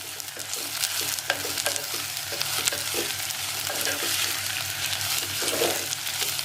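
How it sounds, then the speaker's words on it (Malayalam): Onions sautéing in oil in a clay pot for biryani, a steady loud sizzle with repeated stirring scrapes and clinks throughout, close up and with no voices. "ഇനി ബാക്കിയുള്ള സവാള നമ്മൾ മുഴുവൻ ഇതിലോട്ട് ഇട്ടിട്ട് നമ്മൾ എന്ത് ചെയ്യാണ്, അത് നന്നായി വഴറ്റിയെടുക്കാൻ."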